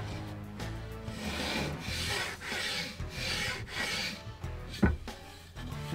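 Rhythmic rasping strokes of a sanding block rubbed back and forth on wood, about six even passes, close and clear, with a brief knock near the end.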